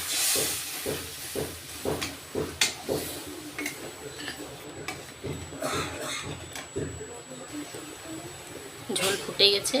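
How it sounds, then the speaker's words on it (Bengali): Curry broth for an oil-based fish curry bubbles in a pan after water is added to fried tomato and spices, giving a steady hiss with scattered popping ticks, a voice faint underneath. "ঝোল ফুটে গেছে"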